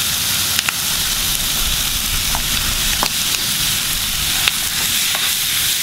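Pork sizzles steadily in a dry pan with no oil for a Hmong pork and ginger stir fry, a loud, continuous crackling hiss with a few sharper pops and scrapes, close and without talk.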